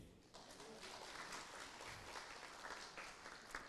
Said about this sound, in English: A big round of applause for us today